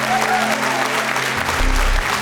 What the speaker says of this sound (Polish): to już za to należą się wielkie brawa.